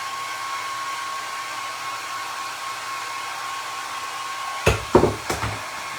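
A hair dryer runs steadily, drying a cinnamon coating on a primitive Santa tin, its constant hum broken near the end by a few sharp knocks and clatters.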